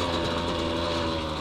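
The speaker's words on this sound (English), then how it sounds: "he starts his bike and it's idling like a two-stroke" A motorcycle in a movie scene runs at a steady idle with a buzzy, two-stroke-like engine note, continuous and fairly loud for the whole moment, with no voices over it.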